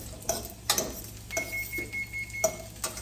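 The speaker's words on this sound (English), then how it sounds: "you heard that beeping? That's the oven." A single high electronic oven timer tone sounds once in the middle while utensils clink and stir nearby in short, irregular knocks.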